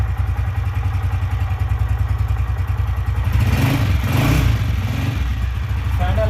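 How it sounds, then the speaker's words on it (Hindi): A Honda CG 125 motorcycle engine idles slowly and steadily, its low putter close by, with a bit of clatter rising briefly midway. "जी दोस्तों, बाइक हमारा स्टार्ट है। ये इसका स्लो साउंड है।"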